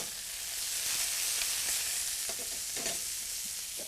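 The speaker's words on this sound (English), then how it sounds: "Now we have the thighs and the drumsticks being cooked." Rabbit thighs and drumsticks fry in a pan with a dense, steady sizzle, close and continuous, with a few soft stirring scrapes.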